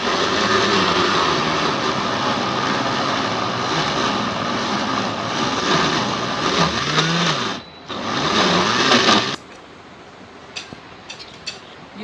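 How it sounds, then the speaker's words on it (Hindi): An electric grinder chops minced beef and chana dal for kababs, producing a loud continuous whirring drone with brief dips. It stops suddenly near the end and is followed by faint clinks. "अब इसमें हम ग्राइंडर में डाल के इसको ग्राइंड करेंगे।"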